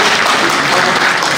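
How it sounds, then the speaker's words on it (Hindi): An audience at a community awards ceremony applauds the stage members, a short burst of loud, dense clapping with no pause. "मैं सभी समाज बंधुओं से निवेदन करूंगा कि तालियों से इन सभी मंच सदस्यों का"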